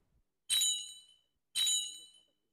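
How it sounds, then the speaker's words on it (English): A doorbell rings twice, each a bright metallic ding that rings out and fades, separated by a short pause in an otherwise quiet room. "Suddenly, I heard the bell."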